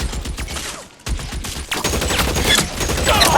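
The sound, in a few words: gunfire in video game L.A. Noire shootout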